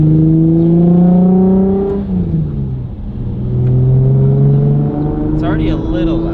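A Nissan 350Z with an aftermarket exhaust revs with a deep, steady drone, its pitch rising and settling across a couple of pulls. The exhaust sounds close and loud, and voices talk over it near the end.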